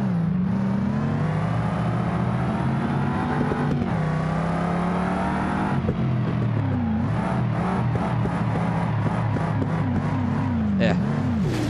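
A Mercedes-AMG S63 with all-wheel drive drifts in BeamNG.drive, its engine droning loud and continuous with rising and falling revs, a few sharper pitch sweeps and tyre scrub near the end, a voice talking underneath.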